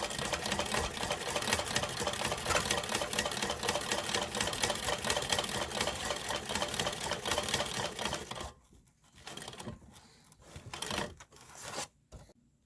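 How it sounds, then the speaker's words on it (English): A hand-crank sewing machine, converted from a treadle machine, stitches a seam with a dense, rapid, steady clatter for about eight seconds, then slows into a few shorter bursts with quiet gaps between them. "that is the treadle machine, or the formerly treadle machine. Now it's a hand crank machine."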